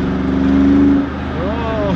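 Mercedes G63 engine in manual mode, a steady loud drone from inside the cabin that swells then eases as revs change, with a voice talking over it.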